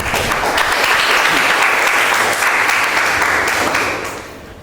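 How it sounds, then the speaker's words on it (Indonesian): Loud, dense applause from a classroom of students for a discussion group, sustained evenly for about four seconds and then quickly fading away. "Tepuk tangan kelompok 1."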